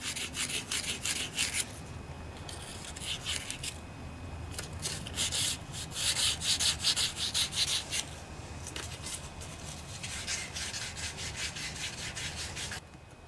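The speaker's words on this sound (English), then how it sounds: "I have some sandpaper rolled up here. Poke that down inside the bearing." Rolled sandpaper scrubs steadily inside a rusty bearing on a vintage 8 hp Briggs and Stratton Snapper riding mower, a close, continuous raspy rubbing with short back-and-forth strokes and brief pauses.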